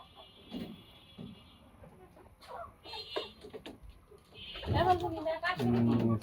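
Fayoumi hens in a small poultry farm shed with about sixty birds, soft clucks and calls around someone talking, with a louder burst of scuffling and clucking near the end.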